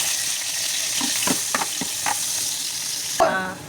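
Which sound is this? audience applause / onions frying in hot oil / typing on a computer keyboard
onions frying in hot oil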